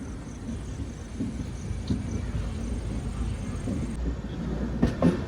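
Inside a sleeper-class coach of the Thiruvananthapuram Central Express, a steady low rumble of the running train continues, with a brief rattling clatter near the end.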